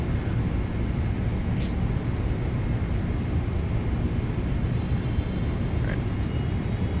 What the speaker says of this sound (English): Engines do sound awesome.